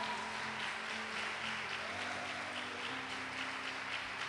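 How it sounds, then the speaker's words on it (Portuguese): A church congregation applauds, a faint, even wash of clapping heard from a distance with a low hum beneath it and no talking. "Vamos aplaudir a Deus por isso"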